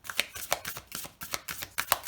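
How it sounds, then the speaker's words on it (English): Tarot cards being shuffled by hand during a pick-a-card reading, a rapid series of crisp riffling and slapping bursts that repeat roughly every quarter second, close and fairly loud with no talking. "Let me just shuffle the cards out."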